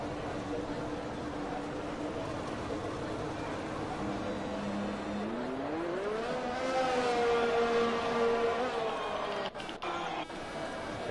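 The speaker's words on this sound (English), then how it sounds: "Hear a few engines firing up." Formula 1 race car engines fire up in the F1 2020 video game, a rising engine tone that climbs and holds over steady background noise, with a few sharp clicks near the end.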